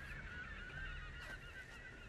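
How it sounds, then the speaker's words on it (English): Seagulls squawk in the Tomb Raider game, a string of harsh honking cries at a distance, faint and repeated over steady background ambience, with no talk. "Why are the seagulls getting all angry?"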